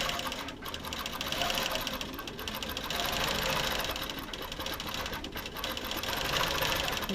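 A Q'21 longarm quilting machine stitches a pantograph pattern, making a continuous, close, fast mechanical chatter that stays steady throughout with slight swells in loudness.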